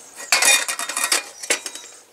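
An aluminium IKEA camping plate or pan is handled, giving close, bright metallic clinks and rattles in quick irregular bursts, loudest at first and then tapering, with no voices.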